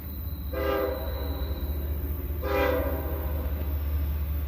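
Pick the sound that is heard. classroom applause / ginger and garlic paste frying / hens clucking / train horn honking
train horn honking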